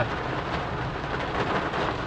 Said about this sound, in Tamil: எப்படி மழை பெய்யுது பார்த்தீங்களா